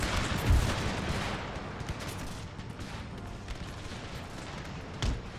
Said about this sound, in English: Right, you are free to fire whenever you want.